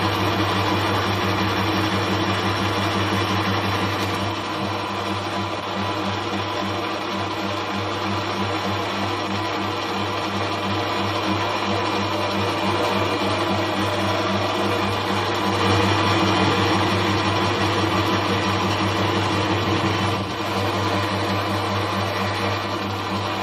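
A metal lathe in low gear turns down a part for a floating die kit, giving a steady, even mechanical hum and whir with a faint rhythmic vibration that runs without a break, close by, with no voices.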